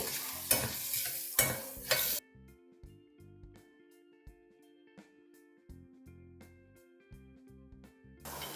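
Spoon scraping and stirring spices in a pan, a few loud strokes at the start, then quieter intermittent clinks and scrapes with brief silences.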